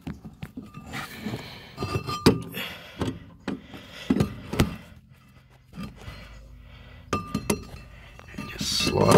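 A metal brake caliper from a Ford BF Falcon front brake job clinks and knocks sharply as it is handled, several separate close metallic taps spaced irregularly, with faint scraping between them.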